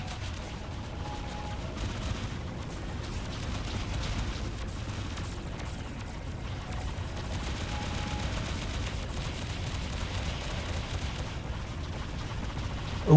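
Maxim guns in the space combat game Discovery Freelancer unleash a steady, unbroken stream of rapid fire, a dense continuous rattle at moderate level with no voices.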